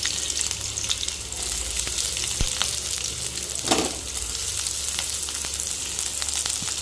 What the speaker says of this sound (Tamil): நம்ம நறுக்கி வச்ச வெங்காயத்தை போட்டுக்கலாம்.